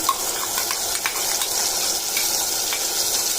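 Masala paste frying and being stirred in a pan with tomatoes, a steady close sizzle with soft scraping stir strokes throughout and no talking.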